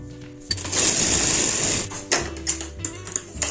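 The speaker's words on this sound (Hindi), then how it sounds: "और इसी तरीके से दूसरी बाजू को सिलना है।" A sewing machine stitches the sleeve seam of a ladies' shirt, running in a loud steady burst for about a second and a half, then breaking into shorter, choppier runs and clicks.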